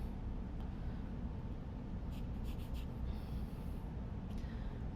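Sharp pencil scratching and rubbing on paper while drawing a block-in study, a steady soft hiss with a few brief faint strokes standing out, close and quiet with no voices.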